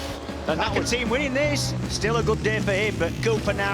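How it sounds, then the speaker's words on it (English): A Ducati Panigale racing motorcycle at a 2016 British Superbike round, its engine rising and falling in booming rev sweeps through the gears, heard beneath excited race commentary. "Into Druid, you will hear that booming Ducati."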